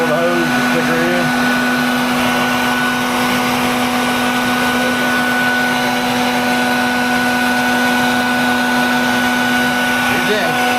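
A vacuum used to suck up bees drones loudly and steadily throughout, with a strong constant whine and broadband roar, while voices speak briefly near the start and end.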